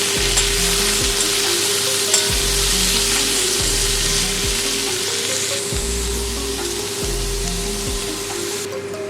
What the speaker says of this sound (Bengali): মিহি করে কুচিয়ে নেওয়া পেঁয়াজ আমি এর মধ্যে এখন দিয়ে দেব। ভালো করে আমি এটা ভেজে নেব।